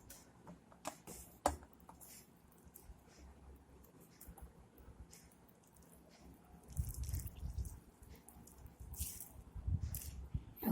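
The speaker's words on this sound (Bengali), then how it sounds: "ভেজে নেওয়া হয়ে গেছে, এখন চিপে উঠিয়ে নেব।" Fried ingredients for chicken cutlets are squeezed out by hand, giving soft wet squelches and drips that swell louder near the end, with scattered small ticks earlier and no talking.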